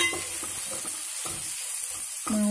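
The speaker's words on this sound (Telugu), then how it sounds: "కొంచెం వేయించుకుందాం." Grated raw mango frying in a pan for fish gravy, sizzling steadily while a spoon stirs and scrapes in short bursts, close and clear.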